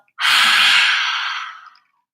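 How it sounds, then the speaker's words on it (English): A single long exhale through the mouth during a yoga practice, a close, breathy rush that starts abruptly and fades over about a second and a half, alone with no talk. "Exhale through your mouth."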